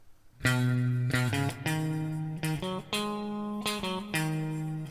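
An electric guitar plays the introduction to a song: a short riff of sustained, slightly overdriven notes, with quick bends and slides between longer held tones, alone with no talking.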